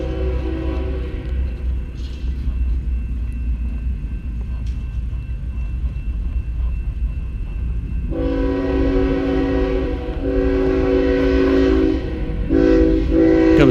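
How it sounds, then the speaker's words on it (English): Train passing close by a field site, with a continuous heavy rumble joined by a loud, sustained multi-tone horn in the second half, no voices. "Comes another train. So every 5 minutes there's a train coming through this place."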